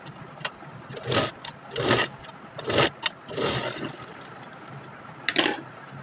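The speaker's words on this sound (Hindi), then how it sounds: "अब इसे डबल फोल्ड करके इस तरह से राउंड कर सिलाई लगा देना है।" A sewing machine stitches double-folded elastic into a round for a baby girl's shorts, running in several short loud bursts separated by brief pauses.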